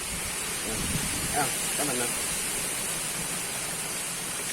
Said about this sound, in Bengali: ফাইনালি বৃষ্টি এলো